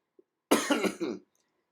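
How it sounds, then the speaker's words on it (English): After a faint click, one person coughs in a quick burst of three or four harsh coughs, close and clear, then quiet. "the coughing is not a tic, by the way"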